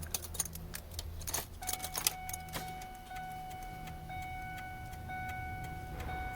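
Keys jangle and clink near the ignition of a 2001 Ford F350 truck, with soft clicks and a faint electronic whine in a quiet interior.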